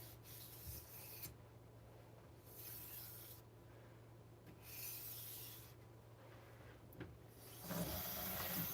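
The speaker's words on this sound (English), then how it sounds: "Now I'm deburring using very light pressure" Light strokes of a gyuto kitchen knife deburred across a sharpening stone, soft rubbing swishes repeating in an alternating rhythm, close and faint over a low steady hum.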